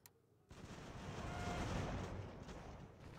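Musket volleys crackle across a battlefield in the game Ultimate General: American Revolution, a dense, sustained roar of gunfire starting abruptly after a brief quiet and holding steady for a few seconds.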